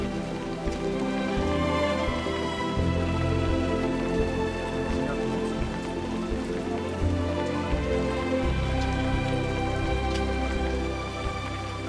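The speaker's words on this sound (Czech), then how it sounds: "Pořád prší" Steady rain showers on the GR2 trail on Réunion island fall as a continuous soft patter of drops on nearby surfaces. The sound stays even and moderately quiet throughout, with no voices.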